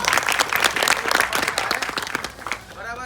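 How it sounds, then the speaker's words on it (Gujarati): An audience claps and applauds steadily and loudly throughout, a dense crowd of hands at a live gathering, with the clapping thinning slightly toward the end. "એમની માટે પણ તાળીથી વધાવી દો"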